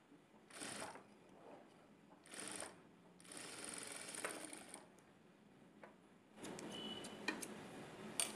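A sewing machine stitches the belt of a prince-cut blouse in short bursts of quiet, rapid ticking, with pauses between runs and a longer run at the end.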